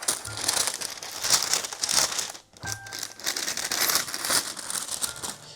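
Wrapping paper in a shoe box crinkles and rustles as it's pulled and unfolded, with a brief pause midway before a second burst of crumpling, close and fairly loud.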